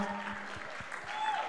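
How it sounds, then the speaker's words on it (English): An audience at a Sunday gospel show claps to welcome dance performer G-Step, a steady mid-level applause over a short stretch, with some music or voices faintly mixed in. "A round of applause for him now"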